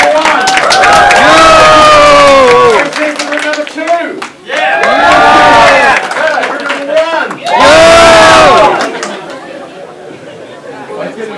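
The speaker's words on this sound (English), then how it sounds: "Who's cheering for group number one?" Crowd of students at a university hovercraft design competition cheering and shouting in loud bursts, with whoops and chatter rising and falling between rounds.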